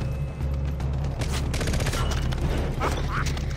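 Rapid gunfire crackles in a dense burst during a Far Cry 3 firefight. Repeated loud shots and booms sit over a steady low game hum, with no talk.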